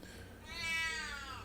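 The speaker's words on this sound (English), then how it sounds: "And we got a loud cat." A loud, drawn-out meow from a house cat, rising and then falling in pitch, close by over a low steady background hum.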